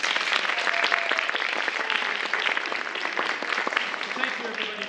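Audience at a community theatre production of Pride and Prejudice applauds the lighting team, a dense crackling round of clapping at moderate level, with some voices mixed in.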